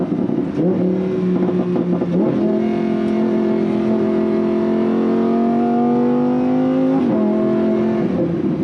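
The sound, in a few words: sports car V10 engine revving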